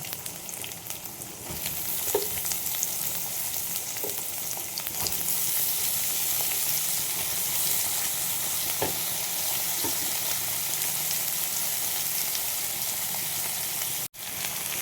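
Vegetables (pumpkin, potato, onion and tomato) fry in a pan for a curry, giving a steady, close sizzle throughout with a few soft stirring knocks and no talk.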